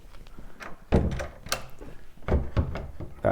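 An old pine cupboard door closing, with several dull wooden thunks and knocks spread irregularly across a few seconds, fairly close and loud, with no one speaking.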